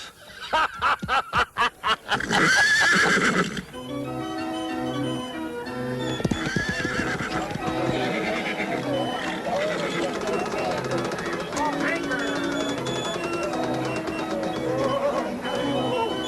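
A horse whinnies loudly near the start, followed by steady hoof clip-clops and music-like tones, with voices talking through parts of it, on a ranch in 1977.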